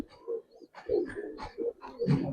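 A Giribaz pigeon coos in a series of soft, close, rhythmic calls, several throaty rolling notes repeated over about two seconds with brief pauses between them.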